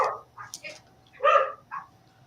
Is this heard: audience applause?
no